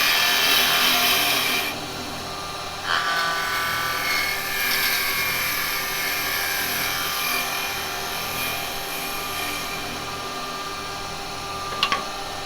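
A wood lathe turns a workpiece while a spindle gouge cuts, giving a steady loud whir with a continuous scraping hiss and a brief sharper catch near the end.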